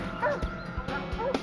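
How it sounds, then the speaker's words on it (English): A police tracking dog barks in a quick burst of short, sharp woofs and yips, fairly close and loud over a low background, with no one talking. "The highly trained dog picked up a scent."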